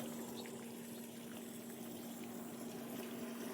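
An electric water pump motor fills water with a steady, constant hum. A faint wash of flowing water runs underneath, unbroken for the whole stretch.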